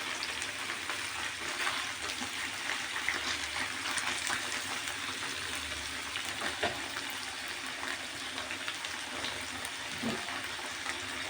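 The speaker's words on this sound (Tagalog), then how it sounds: "sangkutsahin lang natin mabuti" Chicken gizzard and liver sauté in a pan, giving a steady soft sizzle and watery bubbling that holds evenly at low level with no voices.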